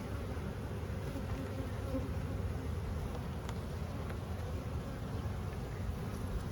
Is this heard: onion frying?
no